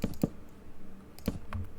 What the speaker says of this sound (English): it picks up a lot of sounds from the keyboard.